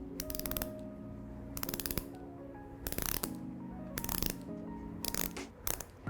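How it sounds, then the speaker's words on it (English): A 1970s Aquastar Benthos 500 chronograph dive watch bezel being turned, giving bursts of crisp ratcheting clicks in several separate runs, close and clear with no talking. "there's a pretty satisfying sound to the bezel"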